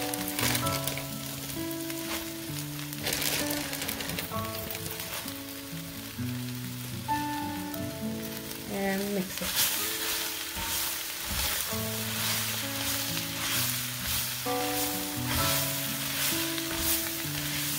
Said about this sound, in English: Now I'm going to add in the spinach to it.